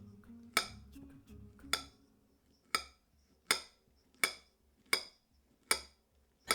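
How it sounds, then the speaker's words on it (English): A knife slicing four bananas on a board, about eight crisp, evenly spaced chops knocking against the surface, close and clear. "So I've got 4 bananas and I'm slicing them."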